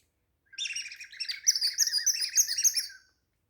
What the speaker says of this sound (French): les oiseaux se sont envolés aussitôt en riant évidemment